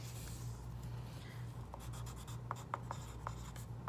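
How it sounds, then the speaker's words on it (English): A pencil scratching out a name on a kindergarten worksheet, soft and close, with short strokes and a few sharper taps near the end in a quiet room. "we're gonna write your name."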